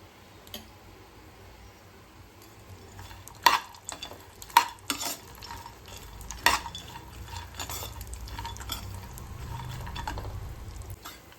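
Dry fruits fry in ghee for laddu as they are stirred, a low, quiet sizzle under scattered clicks and scrapes of a spoon against the pan, close and without talk.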